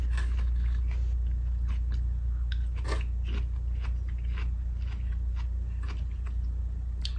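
Someone bites and chews watermelon eaten by hand, with wet crunches and munching sounds repeating close to the mic over a low steady hum.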